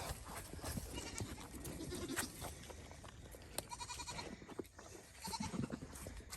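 Goats on a farm during breeding season bleat a few times among ongoing pen noise, the calls moderately close and mixed with shuffling and rustling.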